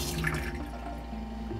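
A new bathroom faucet aboard a Catalina 34 sailboat runs with a steady, faint, even rush of water and no talking.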